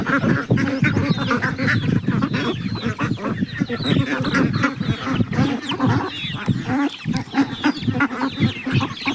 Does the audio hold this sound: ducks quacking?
yes